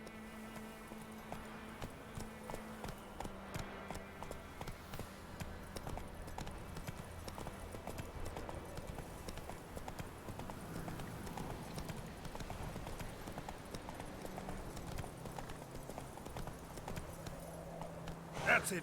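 Hoofbeats of the horse Roach in The Witcher 3 clip-clop steadily at a gallop throughout, with occasional snorts, layered over game ambience and someone talking.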